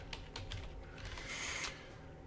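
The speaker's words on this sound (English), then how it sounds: "I'm going to type duplicate in there" Quick clicking keystrokes on a computer keyboard, a short run of light, close taps that are quiet and without talking.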